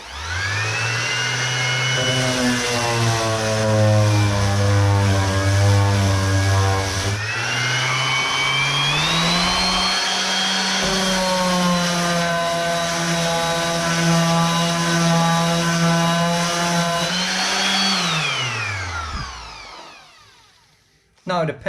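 Dewalt DWE6423 orbital sander running on wood, a steady loud whirring motor whine that holds for most of the time with a small step up in pitch, then winds down to silence at the end.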